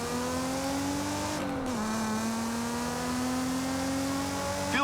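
A car engine drives in Forza Horizon 5 with a sustained, smooth tone that holds steady, dips briefly as if shifting, then climbs gradually again, loud and close with no talk.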